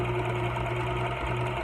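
A twin-needle sewing machine stitches fabric with a steady, continuous mechanical hum and rapid whir, close and even throughout with no pauses.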